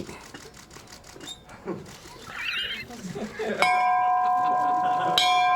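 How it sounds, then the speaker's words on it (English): Muffled voices and shuffling give way to a bright bell strike that rings on steadily, then a second strike near the end adds to the sustained ring. "Would one of you like to ring the bell?"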